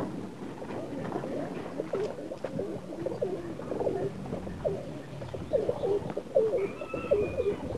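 Bukhara trumpeter pigeons coo in a loft, several birds overlapping in low, rolling, repeated coos over a soft steady background hum, fairly close and with no speech.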